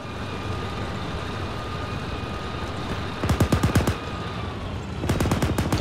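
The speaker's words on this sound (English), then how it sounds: "Why is my gun shooting off center like that?" Gunfire in the ArmA 3 video game: two short rapid automatic bursts, one mid-clip and one near the end, over a steady background hum.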